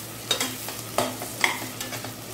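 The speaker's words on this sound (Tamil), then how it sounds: "ஒரு வதக்கு வதக்கிடலாம்." Onions being sautéed in a pan for mutton biryani: close, steady sizzling with a few stirring scrapes and soft spoon clinks, no voices.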